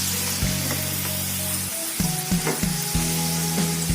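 Homemade French fries sizzle steadily in hot oil, a close, continuous frying hiss broken by a few brief clatters of stirring or lifting the potatoes.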